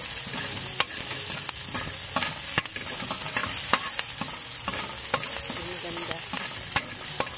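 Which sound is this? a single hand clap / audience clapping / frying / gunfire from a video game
frying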